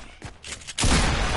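Burst of gunfire in a shooting video game, a dense loud crack of shots after a brief quieter stretch, with no talk over it.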